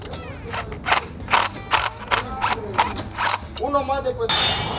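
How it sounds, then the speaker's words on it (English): A vinyl fence gate latch is worked through its striker bar, producing a rapid series of sharp plastic-and-metal clicks and rattles in irregular bursts, close and fairly loud, ending in a brief rushing scrape. "now he puts the latch through the striker bar, and that's just gonna hold it on in place"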